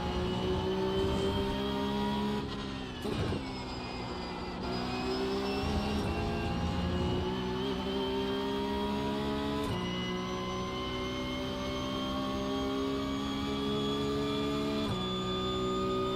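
Race car engine in an iRacing-style sim, at Monza around Lesmo, a loud sustained whine rising through gears with sharp pitch drops at shifts, close and constant with no talk.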